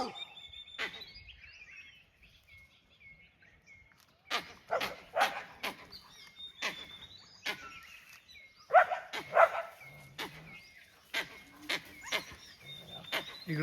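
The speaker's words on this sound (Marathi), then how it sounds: "हे कुत्र त्याला दमदाटी करते" A dog barks repeatedly at a monkey outdoors, sharp nearby barks coming in bursts with short pauses, mixed with bird calls and a voice speaking.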